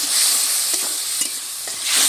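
Crab curry frying in a pan, with a steady broadband sizzle and a few soft stirring knocks as water goes in, close and fairly loud throughout.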